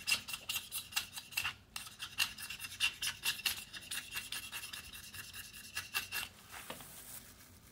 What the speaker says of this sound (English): grab my utility knife, and we're going to scrapey